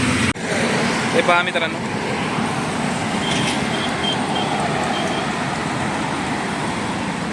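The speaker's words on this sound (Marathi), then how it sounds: "तुम्हाला आवाज येत असाल ट्रॅफिकचा ट्राफिक नाही गाड्यांचा" Steady roar of vehicles passing on the Bangalore–Mumbai highway near Pimpri-Chinchwad, heard from inside an auto rickshaw, continuous and loud throughout, with someone talking briefly near the start.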